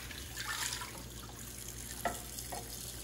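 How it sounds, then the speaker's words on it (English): Tap water runs into a sink while plates are rinsed before loading a dishwasher, a soft, steady splashing stream with a couple of faint knocks from dishes, quiet and close. "we turn on the water. We're going to rinse any food that we see on the plate"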